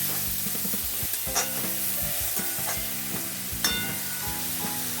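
Tomatoes and masala sizzle and fry in oil in a pan, with a spoon stirring and scraping in steady repeated strokes over a constant close, loud hiss.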